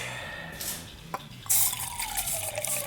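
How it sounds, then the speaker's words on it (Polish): A kettle heating acetone for lamp restoration gives off a watery, dripping, bubbling sound, close and moderately loud, with a brief hiss partway through. "O, już się zaczyna bulgotać."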